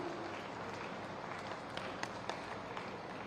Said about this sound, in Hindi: तालियां बजती रही स्वागत के इन पलों में।